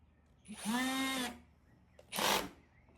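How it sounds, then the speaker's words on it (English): A power drill with a 1/2-inch bit whines as it spins up and bores holes through a plastic bin, then a second shorter burst of drilling, close by with quiet gaps between. "We're going to use the 1/2-inch drill bit to drill holes around the side and the bottom."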